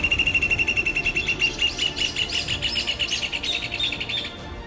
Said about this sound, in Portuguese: como é lindo e incrível o canto em dueto entre o macho e a fêmea